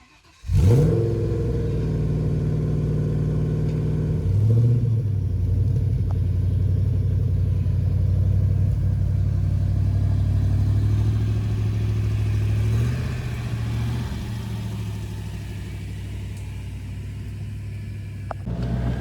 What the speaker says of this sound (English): one of the things I really love about this car is the noise it makes